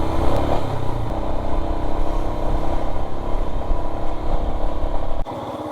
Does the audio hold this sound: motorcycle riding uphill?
yes